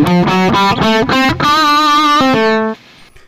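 Electric guitar played through a Cuvave Cube Baby effects pedal with a dry, distorted tone, a run of loud choppy chords followed by a sustained ringing chord that cuts off abruptly.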